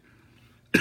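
A single sharp cough bursts out loud and close at the very end, after near silence, from someone talking about the Apple iPhone X.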